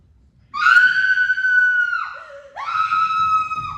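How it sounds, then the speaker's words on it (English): A woman screams twice in a 2023 drama, a long shrill cry that falls away, then a second rising scream after a short gap, loud and close with no other voices. "What's with all the screaming?"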